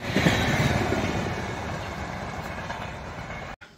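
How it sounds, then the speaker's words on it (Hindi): Train rolling past on a railway track close by, a loud continuous rumble with rattling wheel clatter that cuts off abruptly near the end. "ट्रेन की आवाज सुन के ही मजा आ जाता"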